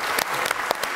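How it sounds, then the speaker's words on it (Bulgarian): A studio audience at a televised dance competition claps in brief, lively applause, many hands patting densely with a few sharper individual claps standing out. "Аплодисменти."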